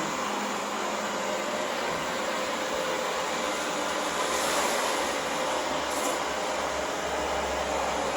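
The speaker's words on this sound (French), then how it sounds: "vous entendez le bruit des grains de riz" A Xiaomi Mi Robot vacuum picks up rice grains with a steady, loud whooshing suction roar that barely changes throughout, with no voices.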